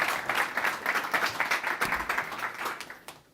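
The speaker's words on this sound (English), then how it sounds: "So give everyone a round of applause for Daniel." An audience at a product management meetup on growth marketing in a recession claps for a speaker: a dense, steady burst of applause lasting a few seconds, then tapering off.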